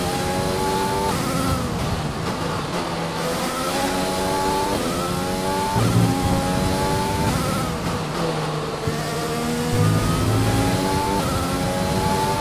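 Formula 1 car engine in F1 2020 at the Italian Grand Prix, a high-pitched whine rising and falling through repeated gear shifts, loud and continuous, close in, with no talking over it.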